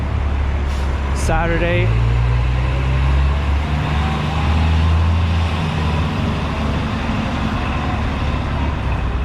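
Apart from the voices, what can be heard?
city street traffic on Fifth Avenue, New York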